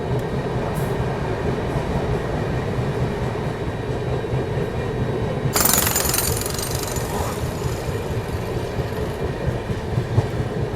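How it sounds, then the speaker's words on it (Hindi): The New Delhi–Howrah Duronto Express runs through Dankuni Junction without stopping, heard from on board as a loud, continuous rumble with rhythmic wheel clatter. A brief hissing rush swells midway, and there is no talking. "अभी अपनी ट्रेन पहुंच गई है दानकुनी जंक्शन रेलवे स्टेशन।"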